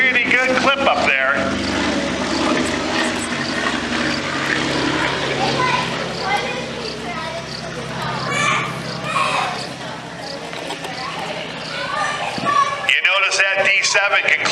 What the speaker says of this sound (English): the D7 is going to give you a nice flyby downwind